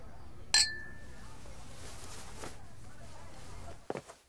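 Two glasses clink once in a toast between business partners, a bright ringing tap with a short decay, followed later by a softer knock against a quiet room background.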